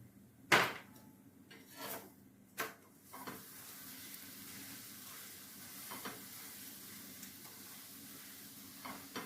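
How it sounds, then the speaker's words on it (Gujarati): Gujarati mixed-millet dhebra flatbread roasting in oil on a griddle, a soft steady sizzle running throughout with a few louder clatters and scrapes near the start, no voices. "હવે એને આપણે એક બાજુ તેલ મૂકીને શેકી લઈશું."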